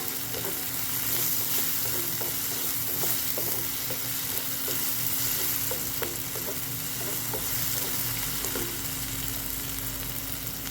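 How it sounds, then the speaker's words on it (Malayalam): Two onions sautéing in rendered pork fat in a pan for pork curry, a steady loud sizzle with repeated scraping stirs in a regular rhythm, close and continuous with no talking. "അതിൽ 2 സവാള വഴറ്റിയെടുക്കാം"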